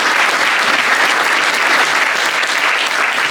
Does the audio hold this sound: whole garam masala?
no